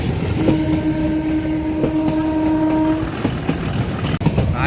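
A passenger train runs through Sasan Gir, its steady rumble filling the scene with a sustained horn tone for several seconds, loud and close, then easing into continuous rolling noise.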